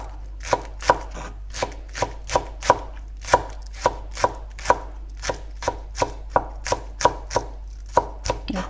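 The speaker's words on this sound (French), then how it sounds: "Il faut couper très finement." A knife chops chives finely on a cutting board with about twenty sharp, evenly spaced taps in a steady rhythm, close and distinct, over a faint low hum.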